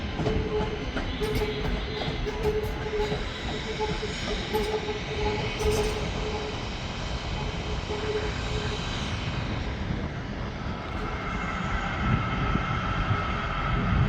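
Northern passenger train pulling out of Manchester Piccadilly station, a continuous rumbling drone of engine and wheels with brief squeals, steady and fairly near, no talk.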